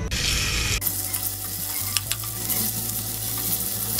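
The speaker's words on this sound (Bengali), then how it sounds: "তেল গরম হয়ে গেছে, আমি পেঁয়াজ দিচ্ছি।" Onions dropped into hot oil in a wok burst into a loud, bright sizzle that settles into a steady crackling fry, with a few stirring scrapes over a low background hum.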